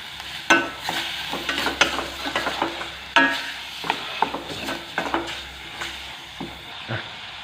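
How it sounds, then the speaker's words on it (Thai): Pork sizzles and crackles as it is stir-fried in a hot pan while a utensil scrapes and stirs in quick, irregular strokes, close and fairly loud. "ใส่หมูไปเลยครับ ใส่ไปเลย ใส่ไป เอาแล้วก็คั่วให้มันสุกนะครับ ผม คนบ่อยนะเดี๋ยวหมูติดกระทะ"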